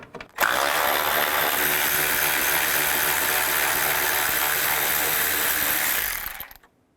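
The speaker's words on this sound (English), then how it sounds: "Take this bolt out, use a 10mm socket." A continuous, loud buzzing ratchet runs for about six seconds on a 10mm socket, backing a bolt out on a 2000–06 GMC truck during transmission cooler line work, then cuts off abruptly.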